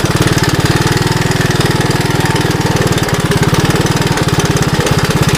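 A 1981 Honda 185S motorcycle engine runs steadily while riding off-road, a loud, close, continuous single-cylinder thrum with rapid regular pulses and brief shifts in rhythm, no talking.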